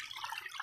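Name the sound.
water flowing over rocks in DIY artificial creek waterfall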